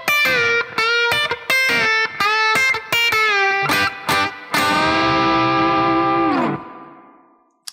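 Chicken pickin' country guitar lick with distortion, a quick run of sharp, snappy staccato notes that ends on a long sustained chord fading out.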